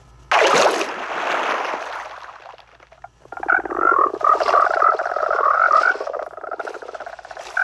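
Many frogs in a video game mangrove swamp croak in a dense, rapid chorus, loud and close, following a burst of noisy rustling at the start.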